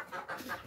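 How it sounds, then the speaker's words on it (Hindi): Aseel chickens clucking and squawking in brief, agitated bursts as they are chased around a farmyard, close and moderately loud. "ये हमारे असील मुर्गे हैं"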